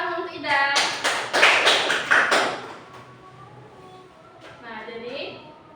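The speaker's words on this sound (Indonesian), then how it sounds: "Tepuk tangan untuk Ida." A classroom of students claps for a classmate after her answer in a social studies lesson: a short burst of brisk, fairly loud hand claps lasting about two seconds, with a teacher's voice speaking before and after.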